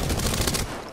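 Dense bursts of rapid automatic gunfire in an Apex Legends battle royale match, loud and continuous for a second before tailing off slightly.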